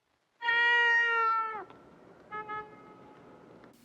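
A cat meows loudly once in a long drawn-out call, then gives two shorter, fainter mews after a pause, with no talking.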